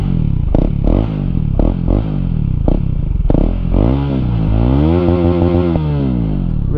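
A KTM Duke 250 motorcycle engine idles in neutral, a loud, close, steady throbbing rumble with uneven pulses and a rising-falling wobble in pitch, heard alone without talking.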